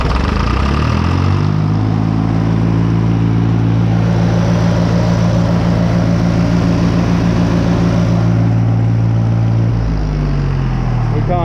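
An International 484 tractor engine roars loud and steady at full throttle, a deep sustained drone holding for several seconds before easing back.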